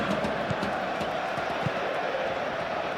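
A stadium crowd roars in a football video game, FC 26, before a Paris SG vs Arsenal Champions League final: a dense, continuous wash of distant supporters' voices with faint rhythmic thumps, holding steady throughout.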